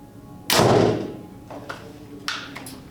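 An arrow shot from a Mathews Lift X bow strikes a foam target with one loud, sharp thump, followed by a few fainter knocks and rattles in a short, quiet outdoor moment.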